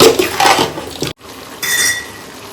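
Water poured into a pot of country rooster curry for a Chettinad-style fry, a brief splashing pour that cuts off sharply, then a softer, steadier trickle of liquid filling the pot.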